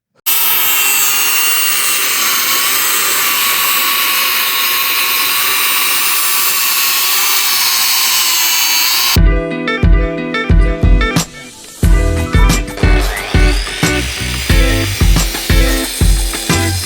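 A power drill bores bolt holes into a stone curb in cold outdoor conditions, a long steady high whine for about nine seconds, then a run of short repeated bursts and knocks close by.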